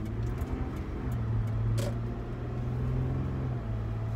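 Steady low engine and road rumble from inside a moving car in New Jersey, continuous and even throughout with no talking.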